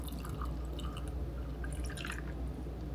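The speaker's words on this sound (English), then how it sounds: "Pour my espresso." Espresso poured into a cup for an iced vanilla latte made at home, a continuous near trickle and dripping against a steady low hum, with no voices.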